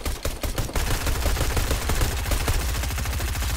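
Shotgun fire in the Fortnite video game comes as a loud, rapid volley of blasts, followed by dense continuous gunfire with no talk.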